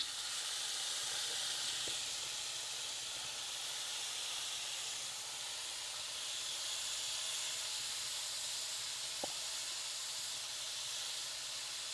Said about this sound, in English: You can hear them just a sizzling.